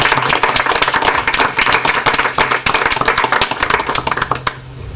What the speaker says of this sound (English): give him a round of applause and thank him for his service